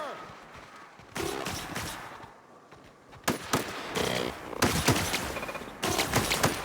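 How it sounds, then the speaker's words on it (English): Bursts of rapid gunfire in The Outer Worlds: Spacer's Choice Edition, coming in loud, clustered volleys separated by brief lulls, crackling and sharp. "Suppressing fire!"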